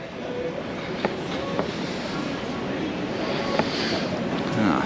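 Seen from the stern of the P&O cruise ship Iona, moving at around 10 knots, the wake churns in a steady rushing wash mixed with wind buffeting the microphone, broad and continuous, with a few faint knocks.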